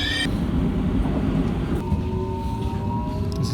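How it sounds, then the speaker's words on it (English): A subway train in South Korea rumbles into the station steadily with a low continuous roar and a faint high squeal of wheels or brakes, close by. "Alright, train is here."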